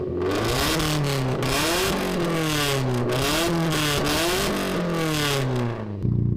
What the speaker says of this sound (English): Let's try revving it up.